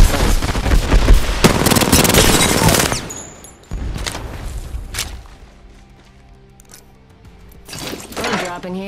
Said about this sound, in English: Wings up. Fox 3, firing missiles.